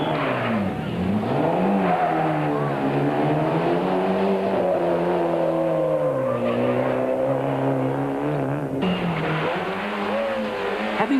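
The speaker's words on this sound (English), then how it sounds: "Another local Class D entry with Mark Johnson at the wheel and Francois" Class D rally car on a stage of the 1993 Swartland Rally, engine revving and pitching up and down through gear changes with some tire noise, loud and close without talk.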